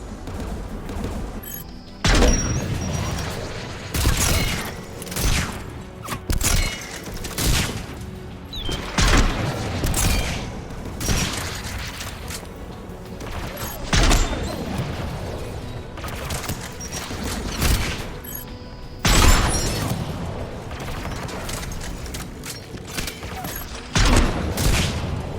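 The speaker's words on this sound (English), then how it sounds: "AA guns ahead of us." Anti-aircraft guns in Mass Effect 3 fire in dense, heavy volleys, with booming bursts roughly every few seconds over a continuous rumbling battle din and no talking.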